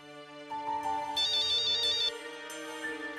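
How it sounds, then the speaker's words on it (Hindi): A telephone ringtone plays a repeating electronic melody, loud and clear with no voices over it. "तुम्हारा फोन है।"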